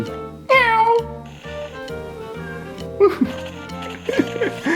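A house cat in an old home gives a loud, close, falling meow near the start, followed by more vocal sounds mixed with people talking.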